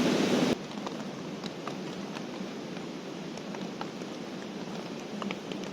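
Rain falls on a leaky tent in deep woods, a soft, steady patter with scattered heavier drops striking the fabric. A louder burst at the very start quickly drops to an even, gentle drizzle.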